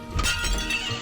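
An object shatters with a glassy crash inside the horror game Scary Teacher 3D, a short loud break with clinking debris lasting about a second, no talk over it.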